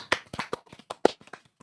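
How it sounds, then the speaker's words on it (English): A small group claps briefly during a podcast recording, a loose scatter of a dozen or so sharp hand claps over under two seconds, close and uneven. "A round of applause."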